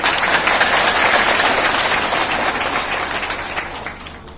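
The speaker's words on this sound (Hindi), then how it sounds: "इनके लिए भी जबरदस्त ताली हो जाए" A crowd at a public rally applauds for the event organisers, with dense sustained clapping that fades gradually toward the close.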